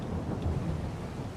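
Rain and deep thunder in the video game Farming Simulator 22, a low rolling rumble over a steady wash of falling rain, with no voices.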